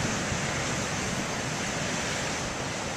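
Big ocean waves crash continuously in a dense, roaring wash of surf that fills the whole stretch, loud and close with no pauses and no voices.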